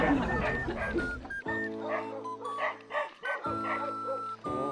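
Dogs bark and yip in short bursts, fairly near, with people's voices talking over and between the barks.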